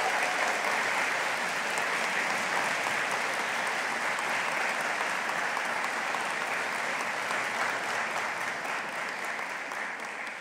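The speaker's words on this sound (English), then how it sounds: "students, please applaud your friends and family for supporting you" Audience at a university Faculty of Science graduation ceremony applauds in a long, dense, even wash of clapping that barely tapers toward the end, with no talking over it.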